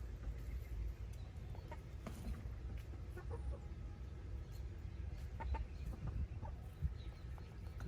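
Chickens cluck softly and intermittently around a compost pile outdoors, close but quiet, with scattered pecking, scratching, and rustling over a low steady rumble of background noise.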